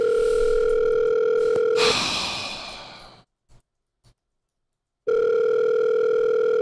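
A steady telephone dial tone hums loudly on a call, cut by a sharp breathy sigh that fades into near silence, then the same continuous tone returns abruptly.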